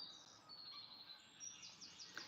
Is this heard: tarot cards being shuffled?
no